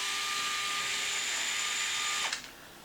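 Power screwdriver whining steadily as it backs out a screw from the spur gear cover of a Traxxas MAXX RC truck, then winding down abruptly near the end.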